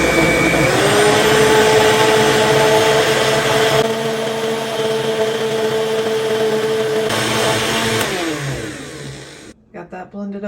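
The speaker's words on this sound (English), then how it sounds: "We are ready to throw half of this into a blender." A kitchen blender purees wild mushroom soup made with oyster and wood ear mushrooms, its loud motor whine holding steady with a couple of shifts in pitch before cutting out near the end.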